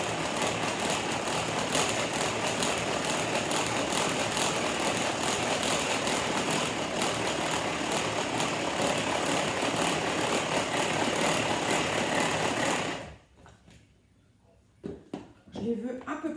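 An electric mixer on speed 2 whips egg whites for a French caramel Christmas log, giving a steady, loud, buzzing whir for about thirteen seconds before cutting off, with a few faint knocks afterward.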